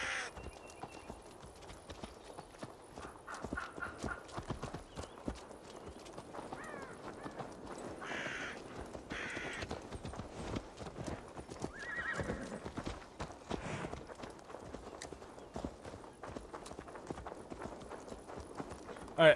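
Steady clip-clopping hooves trot throughout in Assassin's Creed Valhalla, with a horse whinnying partway through over a busy game background.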